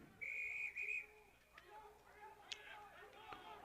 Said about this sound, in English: Whistle blown on the West A penalty